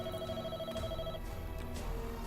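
A landline telephone rings with a steady electronic trill that repeats in bursts, loud and close with a low rumble underneath.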